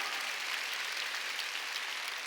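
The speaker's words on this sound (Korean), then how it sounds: "깨달은 사람 박수 치라니까." A church congregation claps steadily and evenly for a couple of seconds, a dense wash of applause with no voices.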